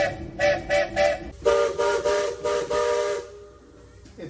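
Steam train whistle on the Walt Disney World Railroad at Magic Kingdom, four short loud toots followed by several longer blasts, close and ringing alone.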